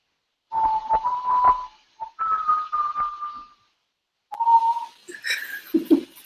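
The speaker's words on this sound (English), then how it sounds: "do a whistling thing" A person whistles a few short, wavering tones in separate phrases with pauses between, close and clear, ending in a breathy laugh.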